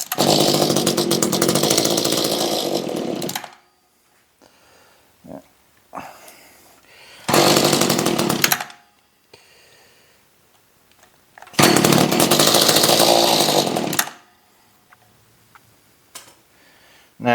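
A Mantis tiller's small engine sputters to life with the choke on, running loud and buzzy for a few seconds at a time in three separate bursts, dying out between them into near quiet with faint clicks.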